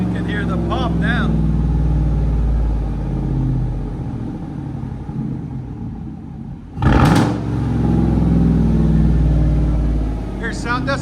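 A 2014 Chevy Silverado with a 5.3L V8 and true dual straight-pipe exhaust rumbles loudly at idle, and a single sharp pop bursts out near the end while people talk over the engine.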